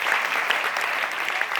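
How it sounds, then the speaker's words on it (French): A festival audience at a film event applauds steadily, many hands clapping together in a continuous, moderately loud patter. "plus fort les applaudissements, s'il vous plaît"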